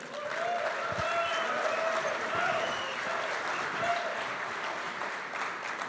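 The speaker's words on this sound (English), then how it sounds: "A big round of applause for Mr. Jim Burkell." Sustained applause from an audience at an engineering welcome-night awards event, steady and dense for several seconds, with faint voices and a few whistles or cheers mixed in.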